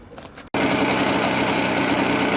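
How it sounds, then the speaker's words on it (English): Rebuilt Mobylette X1 moped engine bursts into a loud, steady, buzzing high-revving idle after a brief quieter lead-in, running continuously up close. "So I'm going to run the engine and see if it will pick it up on the camera."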